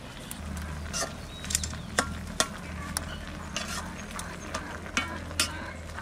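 Pumpkin greens are stirred into potatoes in a pan, with a soft background sizzle and irregular scraping and clinking strikes of the utensil, close and moderately loud.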